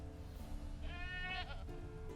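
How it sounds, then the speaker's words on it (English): Goats bleating in The Witcher 3 video game, a wavering, nasal bleat rising over a low ambient game background in a single short call. "please deal with the goats and all the deer and whatnot"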